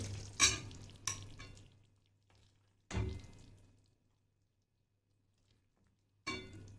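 Cashew chicken scooped from a pan into a bowl after cooking, with a few sharp scraping clatters of a spoon against the pan separated by long quiet pauses.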